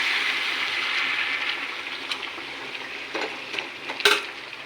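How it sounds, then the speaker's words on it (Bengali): Hot water poured into a pan of sautéed jackfruit for a prawn curry: a steady hissing sizzle-wash runs throughout, with a few brief clinks and a sharper splash near the end, close and moderately loud. "এখন আমি এই যে গরম জল করে রেখেছি, ঝোলের জন্য আমি এই যে গরম জল দিয়ে দিচ্ছি।"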